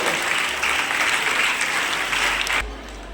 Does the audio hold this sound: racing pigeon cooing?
no